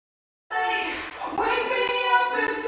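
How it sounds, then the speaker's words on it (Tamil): A sung song in a dense full mix, run through a reverb plugin so it sounds washed out, with sustained vocal and instrument tones spread out by the effect and no break after it begins. "இது வந்து ஒரு ரிவர்ப் ப்ளகின்னு."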